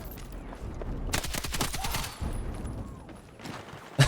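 Sustained bursts of M240L machine gun fire in Battlefield 6, rapid rattling shots with booming echoes in game combat, a brief pause, then another shorter burst.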